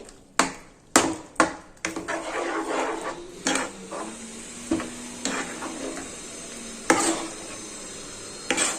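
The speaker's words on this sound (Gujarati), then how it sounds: "આમચૂર પાવડર એડ કરવાનો અને મિક્સ કરી દેવાનું આ રીતે" Amchur (dried mango) powder being stirred into red chili pickle with the heat off, a few sharp scraping knocks at the start, then a steady soft scraping and faint sizzle with intermittent clinks.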